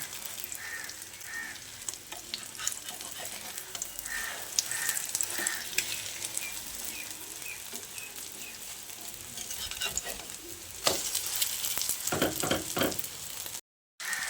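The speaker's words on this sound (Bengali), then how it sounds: "উল্টে দিয়ে আবারও কিছুক্ষণ ভেজে নেব।" Flipped omelettes made with boiled potato fry in a pan, a steady close sizzle with occasional spatula scrapes and soft clinks, the crackle rising toward the end before a brief silence.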